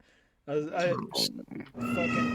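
A cat meows several times in quick succession, fairly close and loud, with a drawn-out final meow; a person's voice may blend in alongside.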